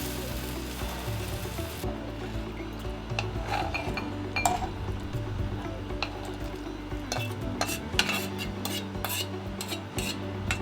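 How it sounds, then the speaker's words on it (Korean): Tomatoes and eggs being stir-fried in a pan with a little salt, a steady sizzle under repeated scraping and clinking of a utensil against the pan, close and busy with no talk. "토마토를 먼저 볶고 계란을 같이 볶고 소금 조금 넣으면"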